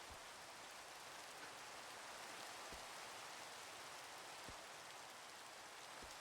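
Steady rain falls in Minecraft on the FTB Skies 2 modpack, a soft, even hiss of drops with a few faint clicks, with no voices.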